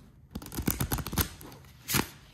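An oracle card deck with gilded edges is shuffled by hand, a close sequence of quick papery flicks and riffles followed by a short pause and one more burst of card handling.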